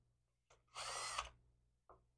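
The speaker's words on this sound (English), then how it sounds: "Put it in your local friendly drill and just go into each" A power drill spins up and grinds into a quarter-inch bolt hole on a vintage British motorcycle, scouring out old gasket material. The burst lasts about half a second, loud and close, with brief softer whirs before and after.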